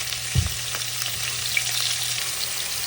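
Fish frying in a pan, a continuous close crackling sizzle with a soft knock of a utensil near the start, no voices.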